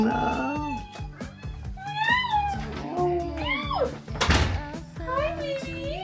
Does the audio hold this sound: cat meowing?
yes